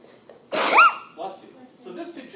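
A single sharp sneeze bursts out in a lecture room, loud and close, followed by a brief murmured voice and quiet room sounds.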